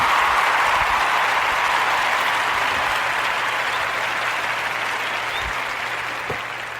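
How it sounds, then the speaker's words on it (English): A studio audience applauds on a talk show, a dense, even wash of clapping from many hands that holds steady and then fades toward the end. "I love those applause"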